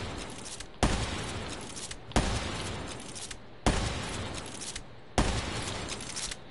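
Four sharp gunshots ring out in Black Ops 3 multiplayer, evenly spaced about a second and a half apart, each followed by a long rumbling tail.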